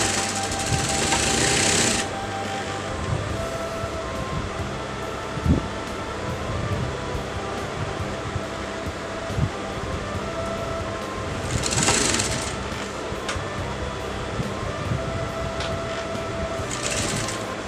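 Sewing machine running continuously while top-stitching a garment collar, a steady mechanical whir and rattle with a few short louder bursts, close and alone.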